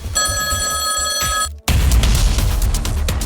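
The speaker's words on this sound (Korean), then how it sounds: "전화가 와." A telephone rings loudly and steadily with a bright electronic trill for about a second and a half, then cuts off abruptly as a dense, noisy scene takes over.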